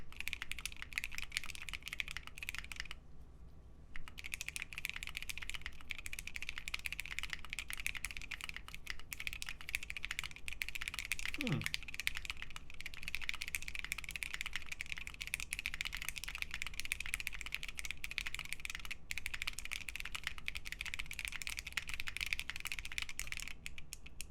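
Key presses on an unplugged Freebird TKL mechanical keyboard fitted with a palm plate, a steady run of close, fairly quiet clicks and clacks through the whole stretch with no speech.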